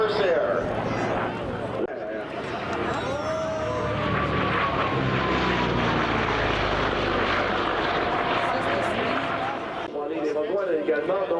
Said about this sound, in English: the 4-point hesitation roll by Louis Marshall in the Corsair